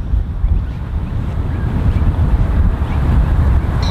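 Steady gusting wind roars across an open golf course, a broad low rumble of microphone buffeting that stays loud and continuous throughout with no talking.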